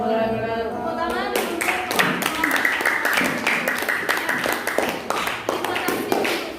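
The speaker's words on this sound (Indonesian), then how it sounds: "Tepuk tangan." A classroom audience of teachers and students claps in lively, uneven applause that starts sharply and keeps going, the individual hand claps crisp and close.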